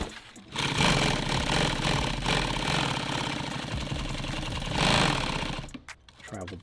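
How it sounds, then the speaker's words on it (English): A sewing machine stitches nylon for a tactical clothes bag, running in a steady loud buzzing whir for several seconds, then slowing and stopping near the end. "just sew forward. Just turn your work when you're going."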